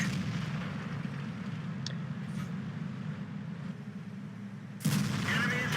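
SU-100 tank destroyer main gun firing in World of Tanks on the Fjords map, a single heavy boom near the end of the clip over a continuous low engine rumble.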